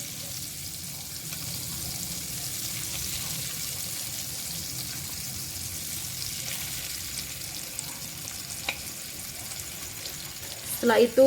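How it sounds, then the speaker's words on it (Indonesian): Chocolate-filled bananas frying in melted, hot butter in a pan, making a soft, steady, low sizzle throughout, with a voice speaking briefly and a clatter near the end. "Setelah menteganya cair dan panas, kita masukkan pisang coklatnya untuk digoreng."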